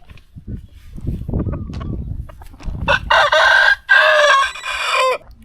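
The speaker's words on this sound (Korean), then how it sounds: "닭이 여기 있네" Chickens cluck softly at first, then a rooster lets out loud, close crows in two long bursts, the sound set among farm animals with no talking.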